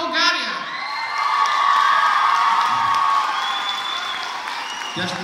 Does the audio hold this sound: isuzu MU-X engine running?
no